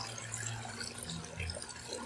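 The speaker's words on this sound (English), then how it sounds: "we're going to take our Clorox or bleach water and pour it down our drain" Bleach water poured down a sink drain, a steady close splashing and gurgling flow, fairly faint, with no talk.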